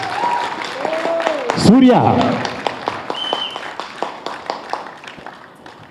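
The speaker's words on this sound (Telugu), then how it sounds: "అర్హానికి మోగించండి ఒకసారి చప్పట్లు" An audience claps for a child actor after a playlet performance in Khammam, Telangana; scattered, fairly light claps tick steadily for several seconds after a short spoken line.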